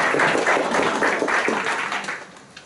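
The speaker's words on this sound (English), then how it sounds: "Another round of applause for the ladies" Applause at a county board public meeting for a group of women: a brief burst of clapping with a few louder rhythmic claps, fading toward the end.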